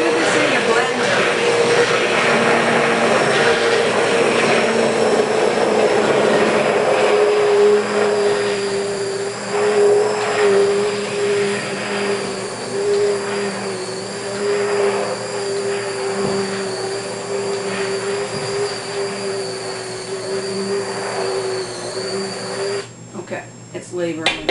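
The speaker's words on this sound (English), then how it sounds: "use the immersion blender now just to see what my texture is going to be like. And this is noisy too" An immersion blender churns dog cookie dough, its loud, steady motor whine running continuously for over twenty seconds before cutting off near the end.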